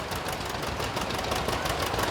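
A 1959 LP-fuel 730 tractor runs steadily in an outdoor parade in Minnesota, its engine a continuous rough, broadband rumble with no pauses, moderately close and without voices.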